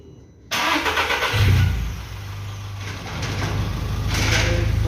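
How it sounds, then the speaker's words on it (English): A 2010-14 VW Polo Vivo GT with a CLPA engine is started after an oil change: a sudden crank and catch, then the engine settles into a close, steady idle with faint birdsong behind. "Once we've closed everything back up, we can test fire the car."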